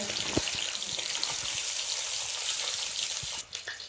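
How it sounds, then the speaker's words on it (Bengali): Tangra fish frying in hot oil gives a steady, dense crackling sizzle with scattered sharp pops. The sound stays close and fairly loud throughout, then drops briefly near the end, with no voices. "এক এক করে সব মাছগুলোকে দিয়ে খুব ভালোভাবে ভেজে নেব"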